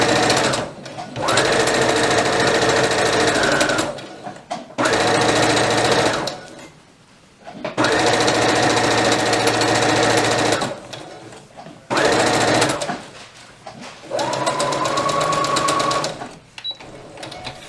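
A sewing machine stitches an elastic-waist toddler dress in several sustained loud runs of steady motor whir, broken by short pauses as the fabric is turned around the edge.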